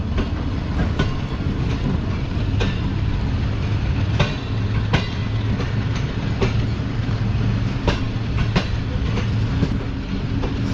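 A late Karachi Express train pulls out of Bahawalpur railway station, rolling with a steady rumble and regular clickety-clack wheel beats over rail joints, close and continuous.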